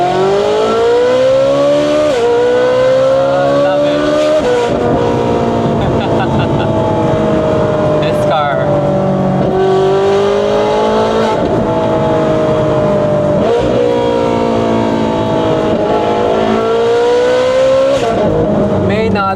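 An RWB Porsche build pulls hard through the gears, its engine note climbing in repeated rising sweeps broken by brief shift dips, loud and close throughout without speech.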